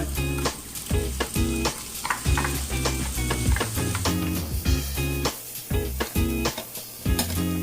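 Brown pork frying with cooked onions in a pan, a loud close sizzle broken by repeated scraping and stirring strokes and light clinks of a utensil, no voices.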